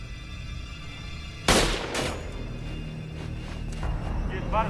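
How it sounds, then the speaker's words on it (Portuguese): Gunfire in a dubbed horror film scene at an abandoned hotel: a sharp loud shot bursts out, quickly followed by a second one, over a steady low background rumble, with fainter noises trailing after. "Disparos de arma de fogo,"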